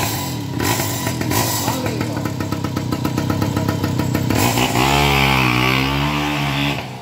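A small two-stroke engine on a Caloi moped runs loud and close, a buzzing putter that rises into a revving drone as the bike pulls away.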